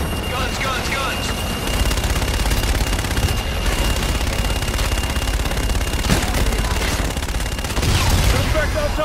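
An aircraft gun run in Call of Duty Infinite Warfare pours out continuous rapid cannon fire, loud and dense from start to finish, with a steady whine riding above it and a heavier burst near the end.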